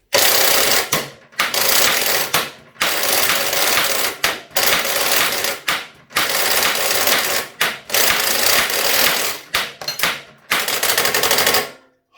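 A ratchet drives a socket on the swing arm bolt of a Suzuki DR200 motorcycle, making loud, rapid mechanical rattling in several long bursts separated by brief stops.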